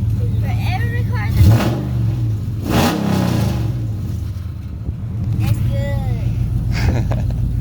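A 2013 Dodge Challenger R/T fitted with long tube headers idles rough and loud on a cold start, rising in a couple of sharp revs around a steady rumble, with people talking over it.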